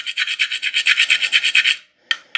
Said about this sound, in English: I wanted to go ahead and grate it right into the bowl.